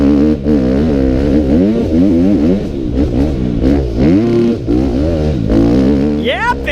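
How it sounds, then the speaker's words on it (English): A four-stroke dirt bike engine at a sprint enduro race revs hard and repeatedly, bouncing off the rev limiter in rapid wavering bursts. The sound is loud and close, continuous for several seconds, and people talk over it. "I like to hear that four-stroke on the rev limiter"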